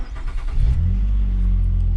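A Ford OBS 7.3 diesel engine cranks and catches, then settles into a loud, steady low rumble close by, with the engine speed rising after it fires.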